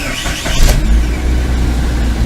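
A 2006 Suzuki Aerio engine cranks briefly with a short starter whir, then catches and settles into a steady, close idle with no talking.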